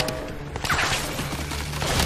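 Turret fire in the video game Crysis 3 rattles as a loud continuous burst of rapid gunshots, dense and unbroken across the whole stretch.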